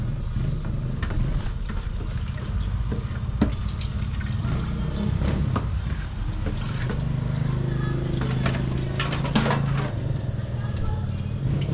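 Water runs from a tap in a steady flow with occasional clinks and splashes, while a person talks nearby.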